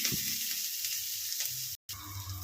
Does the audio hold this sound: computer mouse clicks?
no